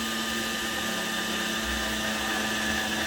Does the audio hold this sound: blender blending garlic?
yes